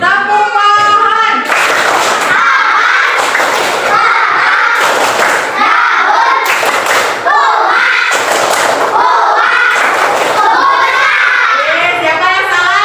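Schoolchildren in an Indonesian grade 4 classroom perform a rhythmic clapping chant, rounds of loud group claps and thumps alternating with sung or shouted words, repeating in steady bursts throughout.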